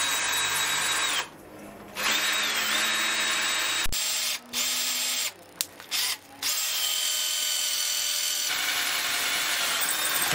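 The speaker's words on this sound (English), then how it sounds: "I'm drilling out the hole I just did on the milling machine all the way through now." A power drill whines at high speed while drilling through a metal part, briefly stopping and restarting a few times, close and loud throughout.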